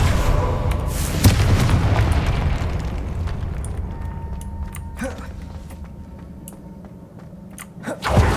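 A Confringo blasting spell explodes in the Hogwarts Legacy video game, a loud booming burst early on that rumbles and fades, with a sharper pop near the end amid game effects.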